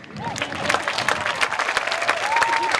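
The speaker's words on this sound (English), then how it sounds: "Exactly, go ahead and clap." A crowd at a 2021 high school commencement ceremony applauds with steady clapping throughout, while a voice speaks over it at moderate distance.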